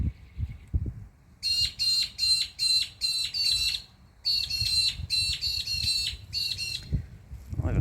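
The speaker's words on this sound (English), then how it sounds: "couple of noisy birds." Harsh, rapid squawking calls come in repeated bursts, two rounds of loud, close bird cries separated by a short pause, over a low background rumble.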